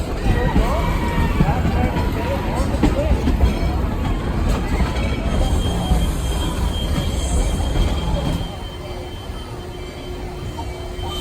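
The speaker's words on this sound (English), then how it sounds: "After a wonderful final ride of the night on the train" Steady rumble and clatter of a moving train from inside a car, with metallic squeals, easing slightly quieter near the end.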